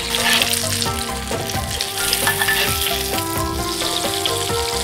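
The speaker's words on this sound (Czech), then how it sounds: "A teď už nezbývá, než počkat, než se nám karbanátky opečou hezky do zlatova s obou stran." Meatballs sizzle steadily in a frying pan as they brown until golden, a loud, close, continuous crackle with some stirring and no voices.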